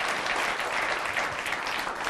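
Audience applause at a studio show, a dense, even wash of many hands clapping that holds steady throughout without pauses or talk.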